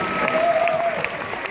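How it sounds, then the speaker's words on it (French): Brief burst of crowd applause for Miss Picardie at the 2015 pageant results, dense clapping with a faint tone ringing through. "J'aimerais qu'on applaudisse bien forte, s'il vous plaît"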